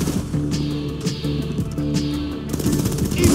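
Rapid automatic gunfire bursts in GTA 5 during a street shootout against enemies on a scaffold, dense repeated cracks layered over a steady musical background, loud throughout.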